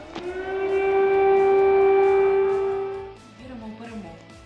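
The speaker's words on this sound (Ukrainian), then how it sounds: "кожен сигнал повітряної тривоги" A Ukrainian air raid siren holds one loud, steady, sustained wail for about three seconds, then fades, with voices faintly audible beneath it.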